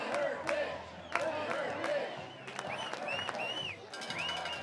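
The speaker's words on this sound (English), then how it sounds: "Crowd chanting, "Let her pitch," wanting Fleck's young daughter to stand in." A ballpark crowd at an amateur summer-league baseball game chants in a steady rhythm, loud and fairly close, with a few whistles and cheers rising over the chant.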